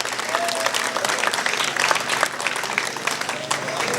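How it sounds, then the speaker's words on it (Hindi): A crowd at an election rally for the Madina Electric Market group bursts into loud, continuous clapping that fills the space, with a voice faintly audible beneath the applause. "तो इनके लिए भरपूर तालियां"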